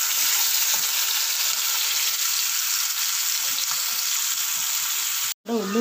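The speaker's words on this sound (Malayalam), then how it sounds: "നമുക്കതിലേക്ക് ആവോലി ഓരോന്നായി ഇട്ട് കൊടുക്കാം." Pomfret fish frying in a very hot pan with shallots gives a loud, continuous close sizzle with crackling. It cuts out briefly just before the end, and no one speaks.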